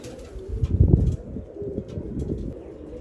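Pigeons cooing close by: soft, low, rolling coos repeating through the clip, with faint higher chirps now and then and no talking.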